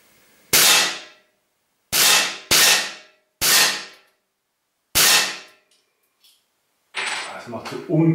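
Five sharp, loud pops from a Steyr LP50RF air pistol ring out at uneven intervals, each with a quick metallic decay, followed by clattering handling noise.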